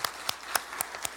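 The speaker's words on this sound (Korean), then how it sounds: "그래도 세가족으로 한번 박수로 축하 한번 하도록 하겠습니다" A church congregation claps to welcome new members during an afternoon service, a faint, sparse run of about five distinct hand claps over roughly a second.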